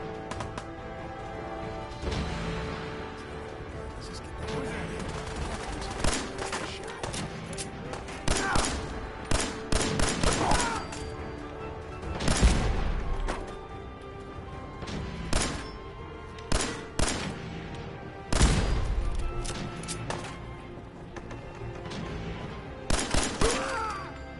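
Gunfire in the video game Fallout 4: repeated bursts of shots, some single cracks and some rapid volleys, loud and close, spread across the whole stretch with steady game background sound between them.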